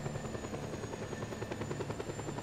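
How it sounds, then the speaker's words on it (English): Helicopter flying over a city in the action game Just Cause 2, an even rhythmic rotor thump with a faint high whine running steadily underneath, no one speaking. "so I'm in the chopper and I have yet to crash it"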